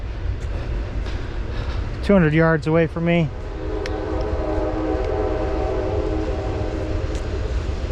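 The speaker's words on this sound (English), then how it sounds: "You can hear the train. It's going by right down over here" A train rumbles past at a distance along the Laurel Highlands Hiking Trail, a loud multi-tone horn blasting in short pulses, while someone talks nearby.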